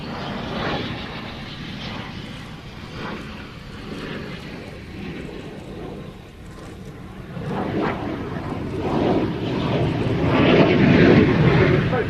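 A military jet flies a slow-speed, high angle-of-attack pass, its engine roar steady and broad, then swelling louder toward the end as it draws closer.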